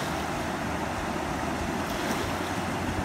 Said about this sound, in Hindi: ये देखिए लगातार एक एक करके वेव आ रही हैं